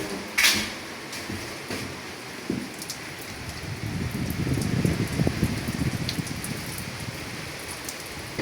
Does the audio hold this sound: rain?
yes